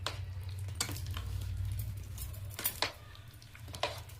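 Peanuts are stirred into sticky jaggery syrup for laddus, giving a soft continuous bubbling sizzle with intermittent scraping and clinks of a spoon against the pan.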